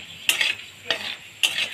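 Whole cinnamon, cardamom and cloves hit hot oil already seasoned with cumin and green and dry chillies for begun bahar, giving three short bursts of sizzling and stirring spaced about half a second apart, close and moderately loud.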